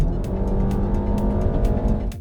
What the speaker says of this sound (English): But that engine is quite loud, and when you really rev it up, you can hear it.